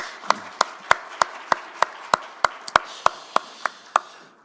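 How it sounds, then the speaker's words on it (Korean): A church congregation at a New Year Friday prayer meeting claps together in a sharp, steady unison beat, about a dozen evenly spaced claps in quick succession with no talking. "우리 두 분을 박수로 모시겠습니다."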